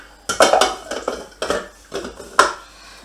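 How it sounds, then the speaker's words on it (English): A spoon clinks and scrapes against a bowl while stirring nuts and coconut together, a string of close, uneven metallic taps and scrapes with no voices. "Give it a bit of a stir to mix it through"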